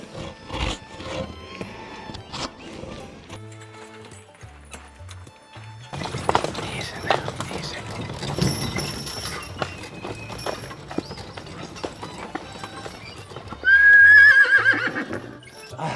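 A Suffolk Punch draft horse in the Appalachian hills gives a loud, close whinny near the end, after stretches of clopping hooves and shuffling movement.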